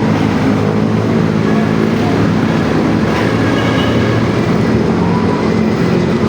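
A steady, loud rumble of an MRT train running along rails at Commonwealth station, with constant low-pitched roar and no pauses throughout.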